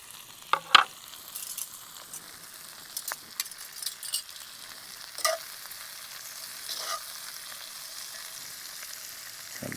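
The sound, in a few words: peppers and onions sizzling in a skillet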